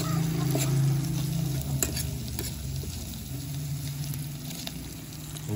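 Corned beef with garlic and onion sizzles steadily in a pan while being stirred, with occasional scraping clicks over a constant frying hiss, close and fairly quiet.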